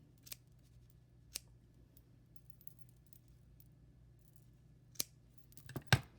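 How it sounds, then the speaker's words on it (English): Scissors snip through yarn at close range while making a pom-pom, a few isolated crisp cuts spaced apart and then a quick cluster of snips at the end, over near silence. "So I put my scissors through there"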